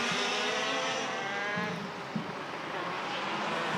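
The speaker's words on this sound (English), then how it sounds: "Here comes Hamilton, down through the gears, through that final turn in front of commentary" Junior 125cc Rotax Max karts race past at a steady, loud drone, engines buzzing through the final turn as they shift down the gears, with no speech in the clip.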